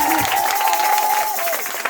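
A church congregation applauding and cheering together in a dense, steady wash of clapping, with a sustained tone running through the first part.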